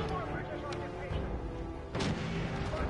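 Gunfire in a zombie video game: a soft early pop, then a louder burst of shots near the end over a steady, busy game background.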